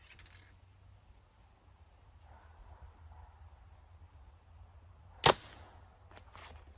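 Arrow from a PSE bow striking the target: one sharp, loud impact about two-thirds through, set against a quiet outdoor background with a faint steady high insect-like hum.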